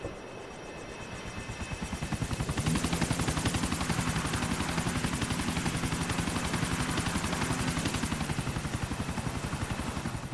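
Helicopter in the GTA IV video game: a loud, steady rotor chop with dense engine whine that swells after a couple of seconds and holds throughout, with no voices.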